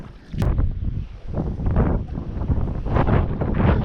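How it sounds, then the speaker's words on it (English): Gusty wind buffets the microphone on a fishing boat, loud and rough with surging rushes, close and unbroken for a few seconds. "Where's this wind coming from all of a sudden, boy?"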